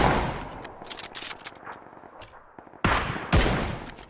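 Gunshots from an M24 sniper rifle in the video game PUBG: a loud, sharp crack near the end rings out over a noisy battle background, with other gunfire rattling earlier.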